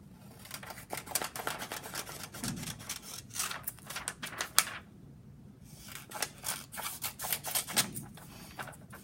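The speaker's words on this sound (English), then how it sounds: "you're just going to cut the whole rectangle out as is." Scissors snip through paper to cut out a whole rectangle for an interactive notebook page, a quick series of close, crisp cuts in uneven bursts with short pauses and no talking.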